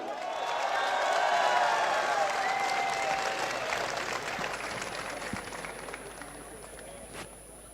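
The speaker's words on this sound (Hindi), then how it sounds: "आप सबकी भरपूर तालियों में" A crowd at a poetry mushaira applauding, with broad sustained clapping swelling early and gradually fading, accompanied by some murmuring voices and scattered cheers, heard from a moderate distance.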